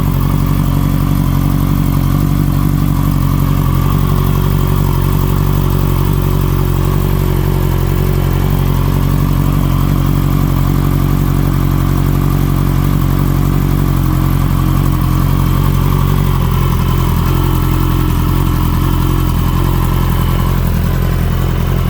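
A Kawasaki Ninja H2 with a brand new, freshly installed exhaust idles steadily, a loud continuous low engine drone with a faint mechanical clatter running unbroken throughout, no voices.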